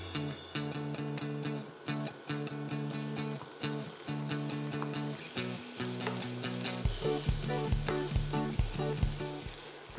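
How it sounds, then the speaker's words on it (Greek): Chopped onion sautéing in hot olive oil in a frying pan on a stovetop at medium-high heat, a steady soft sizzle running beneath rhythmic background music. "και θα σοτάρω το κρεμμύδι"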